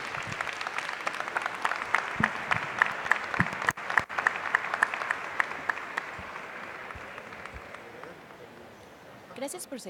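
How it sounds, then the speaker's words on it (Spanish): Sustained audience applause at a book festival event honouring a publishing house's two founders, a dense, even clapping crowd with sharper claps standing out, lasting about ten seconds. "pide un aplauso a los dos que hacen Atalanta"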